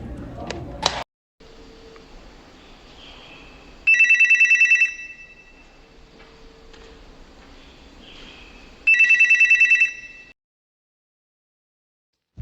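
A telephone rings in two distinct bursts of bright electronic trilling several seconds apart, with a quiet hum and a faint tone between them and a short sharp sound at the start.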